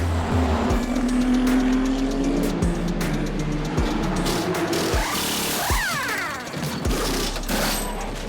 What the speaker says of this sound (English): Oh dear, that's a big crash.